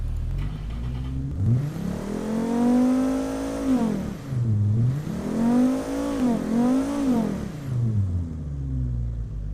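A car engine in a driving video game (BeamNG Drive) revs up, drops back and revs again, a humming, rising and falling whine that carries on steadily with no voices over it.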